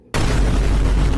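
A cartoon explosion effect bursts in as one loud, sustained boom with a rumbling low end and hissing crackle, holding steady for about a second before cutting off abruptly.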